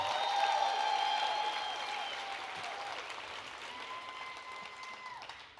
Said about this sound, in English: I think they can hear you if you clap again